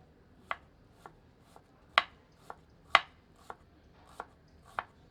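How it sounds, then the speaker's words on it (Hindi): Red onion being finely chopped for momo stuffing: sharp, separate knife strikes on a cutting board, about eight irregular close taps, the heavier ones ringing brighter, in a quiet kitchen with no talk. "अब मोमोज की स्टफिंग के लिए थोड़ी लाल प्याज को बारीक काट लेते हैं"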